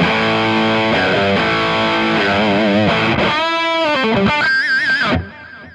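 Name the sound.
electric guitar with gain, reverb and delay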